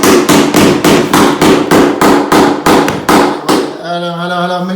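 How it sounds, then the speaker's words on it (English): Sharp hammer blows fitting carpet gripper to a floor, about a dozen loud close strikes in a quick uneven rhythm, then stopping as a ringing tone lingers. "hold tight on the hammer for a minute, mate?"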